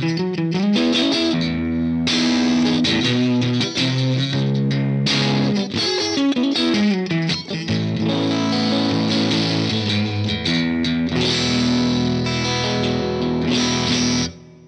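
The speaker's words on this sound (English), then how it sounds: "We're going to use an IR of a Vox amplifier with a Celestion Gold speaker." Electric guitar run through a BOSS Waza Tube Amp Expander using a Vox amplifier impulse with a Celestion Gold speaker, light reverb and post EQ; slightly overdriven strummed chords and single notes play steadily and loudly with no talking.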